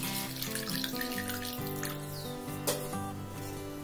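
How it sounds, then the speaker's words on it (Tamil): Water poured into a pan of brinjal gravy while cooking, a steady running splash under background music, with a short sharper burst near the end. "இது கூடவே கொஞ்சம் தண்ணி சேர்த்துக்கலாம்"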